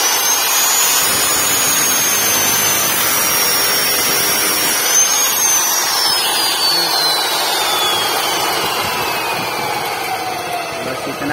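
A chaff cutter (chepsa machine) with a blade, running loud and steady: a continuous close roar with a high whining tone that slowly slides downward, no talk over it.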